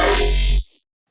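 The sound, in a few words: scary monster growl dubstep bass synth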